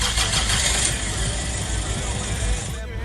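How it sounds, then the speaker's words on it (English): A car engine starts and settles into a steady, loud running drone close by, with a brief drop-off at the very end. "That is the engine car sound."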